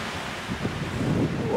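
Strong gusty wind buffets the microphone on a mountain summit, a broad steady roar with rising surges, continuous and close throughout.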